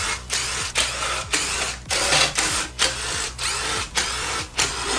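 A ratchet backs out the intake plate bolts on a 1991 12-valve Cummins diesel, producing a close, rapid clicking in repeated short bursts separated by brief pauses.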